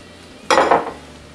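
Onions dropped into a hot pan of olive oil and butter hit with a sudden loud sizzle that swells for about half a second, then quickly eases back to a quiet hiss.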